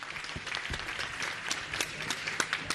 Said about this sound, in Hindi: एक बार उनके लिए अच्छे से ताली बजाएं